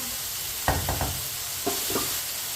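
Vegetable pulao being stirred in a pot: two short clusters of scraping, clattering spoon strokes over a soft, steady background hiss, with no talking.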